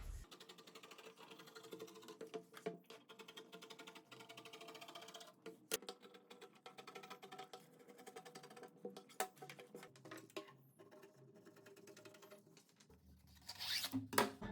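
Fabric for a button-down dress panel is cut with scissors, giving a steady run of soft, close snipping and rustling with sharper clicks, getting louder near the end.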